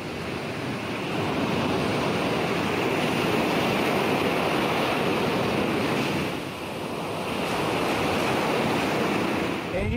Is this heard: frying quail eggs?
no